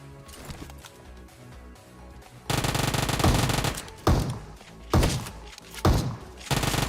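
Automatic M16 rifle fire in a shooting video game, loud sustained bursts with sharp repeated cracks, starting after a quieter stretch of game background sound and continuing in several heavy volleys.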